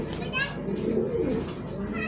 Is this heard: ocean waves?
no